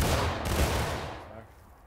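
A musket volley fired by a line of infantry in the Civil War game War of Rights: one loud, ragged crash of many shots that rolls and fades over about two seconds.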